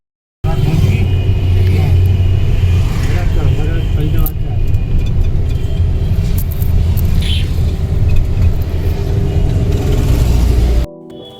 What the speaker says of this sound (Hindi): हमारी गाड़ी आ गई नीचे, जल्दी चलो